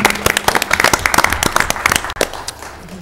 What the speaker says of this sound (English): I hope you join me in giving them a big round of applause for what they do